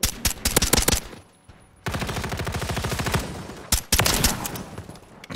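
Call of Duty gunfire crackles in rapid bursts: a fast string of shots, a short pause, then a long sustained automatic volley and more sharp shots, loud and close.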